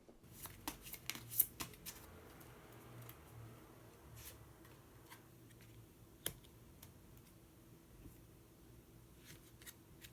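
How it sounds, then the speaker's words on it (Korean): Tarot color cards are shuffled and drawn close by, giving soft flicking riffles and taps in quick clusters early on, then sparse ticks over a quiet background. "마지막으로 색깔로 알아보는 컬러 카드 한 장 더 뽑아보도록 하겠습니다."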